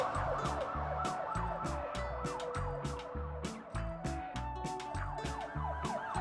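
A police car siren in a children's cartoon wails in a fast, repeating up-and-down pattern, loud and continuous over a bright, rhythmic musical backing.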